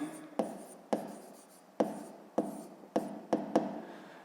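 A pen writes on paper while working a fifth-grade maths exercise, with scratchy strokes broken by about seven sharp taps at irregular intervals, close and fairly quiet.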